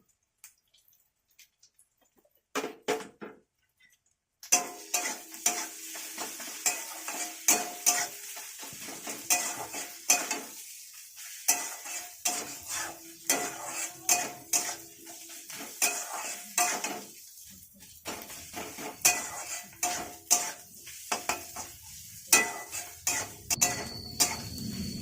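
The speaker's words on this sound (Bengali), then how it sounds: "নারকেলটা একটু লাল লাল করে ভাজা হয়ে গেছে।" Scraping and stirring of grated coconut and slit green chillies in a pan over a light frying crackle, with frequent clinks of utensil against metal; no talking.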